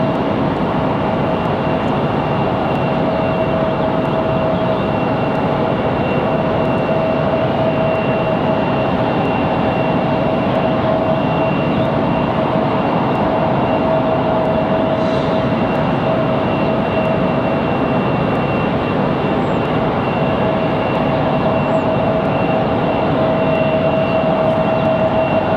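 A JetBlue airliner, flight 185, at Raleigh-Durham airport gives a loud, steady roar that holds constant throughout with a faint whining tone on top, no voices.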